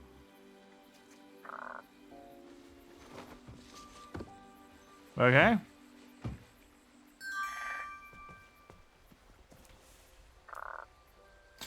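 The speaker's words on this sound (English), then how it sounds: "Frog with a number 8 on its back." Frog croaking in King's Quest, a frog with a number 8 on its back, giving a few short croaks spaced apart amid other game sounds and a sharp loud burst midway, with a brief spoken word.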